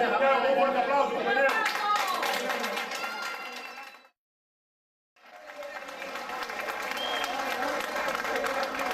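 An audience at a union meeting in Santiago applauds, with loud, dense clapping for about four seconds before a sudden drop to silence, then the applause resumes and builds again to a steady, full level.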